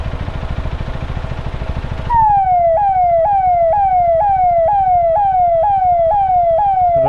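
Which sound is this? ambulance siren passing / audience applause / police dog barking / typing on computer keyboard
ambulance siren passing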